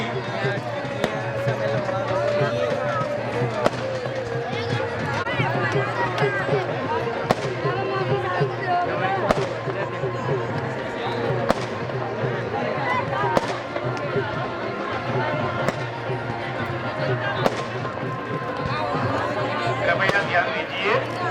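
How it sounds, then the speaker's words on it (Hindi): Fireworks crackle and pop repeatedly at an outdoor wedding celebration near a temple, sharp bangs punctuating a steady roar while a crowd chatters throughout. "सम्मेलन के उपलक्ष्य में शानदार आतिशबाजी।"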